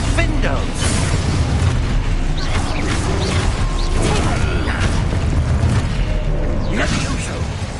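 Spell explosions in the video game Hogwarts Legacy make continuous booming and crashing blasts over rumbling game effects. A voice keeps shouting spell names over the noise.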